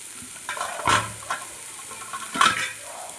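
Grated carrot stirred in a frying pan for carrot poriyal, a soft background sizzle broken by two distinct spatula scrapes and clinks against the pan, no talking.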